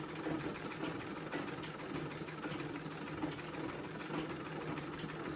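A treadle sewing machine runs steadily, stitching straight lines down a pillowcase being made into a tote bag, a continuous mechanical whir and rattle with no talk.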